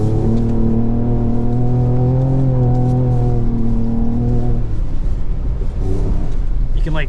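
A 2024 Ford Ranger Raptor drifting on an ice course in deep snow, its engine a loud sustained drone with a rising, wavering pitch as it holds the slide, fading into rougher rumble near the end.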